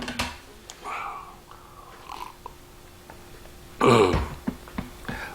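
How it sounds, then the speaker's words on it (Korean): A single rough cough bursts out close by in a quiet room during a church sermon, followed by faint breathing and small noises. "기침이 이렇게 납니다"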